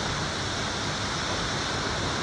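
A waterfall in Bali roars as a dense, steady wash of falling water, loud and unbroken with no voices over it.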